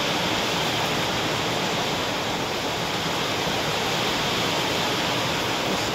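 Floodwater rushing through a canal during typhoon rain, a loud, constant broadband roar of flowing water that continues steadily throughout with no talk.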